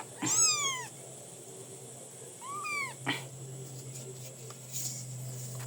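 A small kitten meows twice, high and plaintive, with a short gap between calls, over a low steady hum.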